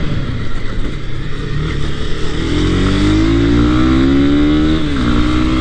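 A Honda CB300R motorcycle engine roars up through a long, loud rising rev at close range, with a steady engine drone before it and no voices.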